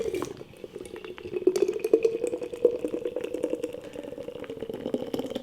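Brewdog Nitro Choco Libre Mexican hot chocolate stout pours from a nitro can into a glass, a close, steady gurgling rush of liquid that holds evenly throughout.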